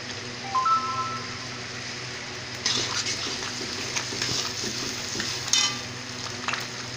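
Chilli chicken sizzling in a pan as tomato sauce goes in, a continuous close fry with scraping stir strokes that swell in bursts; a faint electronic tone sounds briefly early on.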